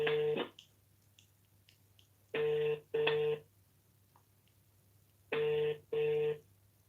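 A telephone placing a call to Nigeria gives a ringback tone in paired bursts, two buzzing rings, a pause, then two more pairs, steady and fairly loud over a faint background hum.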